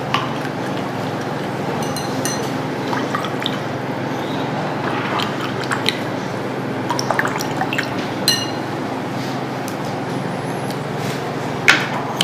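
Indicator liquid poured into glasses of water samples during a water demonstration: soft trickling and dripping with occasional light glass clinks over a steady background hiss, moderately near and without speech.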